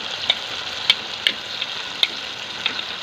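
Boiled beef for a Pakistani beef korma frying in a pan with turmeric, giving a steady close sizzle and hiss broken by several sharp pops and spatters, with no talking.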